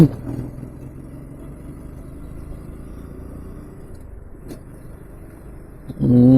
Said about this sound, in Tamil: இப்படி குழப்பி வண்டி ஓட்டுறேன்